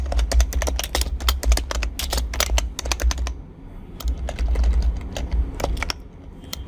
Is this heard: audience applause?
no